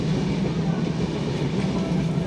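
Passenger train travelling from Dhaka to Tetulia in Bangladesh, heard from on board as a loud, steady rumble and rolling noise of the moving carriage, continuous and without speech.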